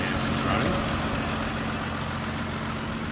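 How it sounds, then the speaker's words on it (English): A 1940 Oldsmobile 2-door touring sedan engine idles with the engine bay open, giving a steady, close, continuous low rumble with an even hum throughout. "when the engine bay is opened up and the engine's running"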